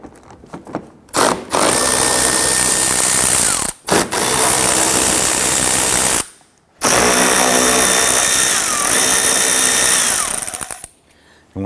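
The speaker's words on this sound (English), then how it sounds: "On the bottom of our front bumper, we have three 10mm bolts. I'm going to go ahead and loosen and remove these." A power tool whirs in several loud bursts with short pauses between, loosening and removing 10mm bolts under the front bumper of a 1992-1996 Toyota Camry, up close with no talk.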